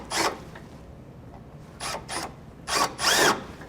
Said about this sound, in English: We're gonna use a 17/32 drill bit to drill out this hole